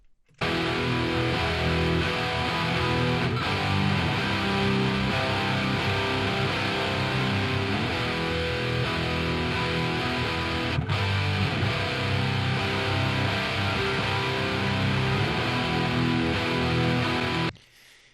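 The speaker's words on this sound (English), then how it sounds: "all those guitars together" Layered heavy electric guitar tracks from a song's mix play together, dense and distorted, loud and continuous for about seventeen seconds before cutting off abruptly, with no voices.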